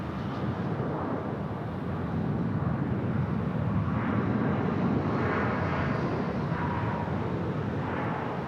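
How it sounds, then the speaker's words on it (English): A Southwest Airlines airliner arriving from Long Beach at Phoenix Sky Harbor Airport makes a steady, loud, broad jet roar that swells slightly midway and holds, with wind rumble and no talk. "So this one's in from Long Beach, Southwest Airlines"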